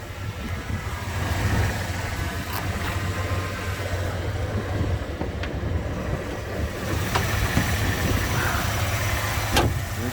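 A 1995 Ford F150 XLT 4x4 with the 5-liter fuel-injected engine idling steadily up close, a low constant rumble with a faint whine from the power steering pump, a few light clicks, no talking.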